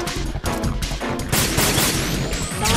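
Dense gunfire from the video game Metal Gear Solid 2 rattles in loud rapid volleys, with bursts and crashing impacts tumbling over one another throughout.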